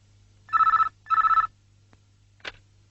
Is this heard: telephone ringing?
yes